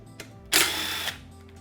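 Power tool driving out hardware holding a motorcycle airbox side plate into the subframe, one loud sustained whir of about half a second with a faint click before it, no talking.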